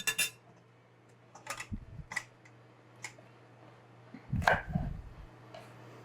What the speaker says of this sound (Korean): 그럼 파를 좀 썰어 넣어야 돼요